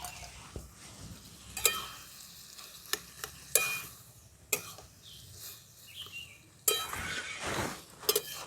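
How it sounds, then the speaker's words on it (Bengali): Bottle gourd curry with fried egg is stirred in a frying pan, a soft sizzle underneath punctuated by irregular scraping and clinking strokes of the spatula against the pan. "দেখুন ডিমটা দেওয়ার পর লাউটাকে খানিকক্ষণ নাড়াচাড়া করে নিয়েছি"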